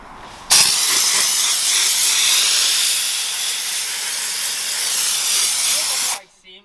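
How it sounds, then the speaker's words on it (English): Loud, close, continuous hiss from a high-end steam cleaning machine working over a twin-turbo Mustang, starting abruptly and holding steady for about six seconds before cutting off sharply. "He's gonna steam clean everything."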